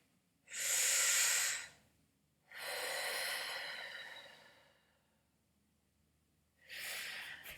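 Three deep breaths in a breathing class demonstrating horizontal breathing: a sharp strong inhale, a longer slower exhale, then another inhale starting, close and clear with no talking.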